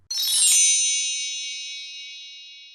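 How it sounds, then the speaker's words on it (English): A bright magical chime rings out once, shimmering with high bell tones, then slowly fades away on its own. "If you get it right, you'll hear magic bells."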